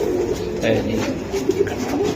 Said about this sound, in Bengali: এই যে কবুতরগুলো, দুইটা কবুতর অনেক সুন্দর ভাই